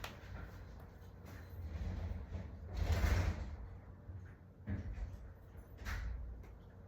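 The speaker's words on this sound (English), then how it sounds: "Let me close my door." A room door slides and bumps shut nearby, with a couple of soft thuds and rustling handling sounds, fairly quiet and without talk.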